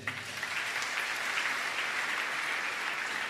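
Church congregation applauding together during a worship service, a steady dense wash of clapping that holds throughout at moderate loudness, with no voices on top.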